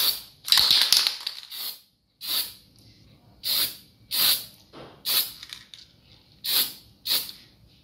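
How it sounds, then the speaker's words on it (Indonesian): Silver spray paint can sprayed onto a homemade nipple connector wrench for a hydraulic brake hose fitting, heard as a series of about eight short, close hissing bursts separated by brief pauses. "kita lakukan penyemprotan. Ini dengan pilok ini, pilok yang silver."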